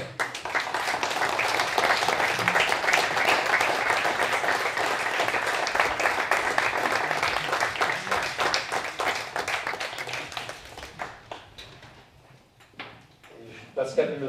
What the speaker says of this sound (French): Comme ça, on va vous applaudir déjà.